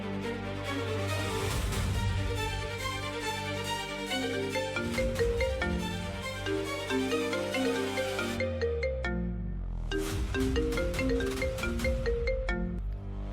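A phone ringtone plays continuously while a call is being placed, a bright repeating melodic tune with a short pause partway through, alone and fairly clear.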